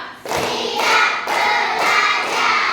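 Schoolchildren in a classroom clap in unison to a count, producing a few strong, evenly spaced bursts of many hands clapping close by, without speech.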